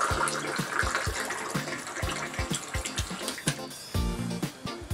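Water runs from a small battery-powered mini-pump faucet dispenser (Andowl Q-C16), a steady trickling stream with faint clicks and splashes as it fills a glass, no talking over it.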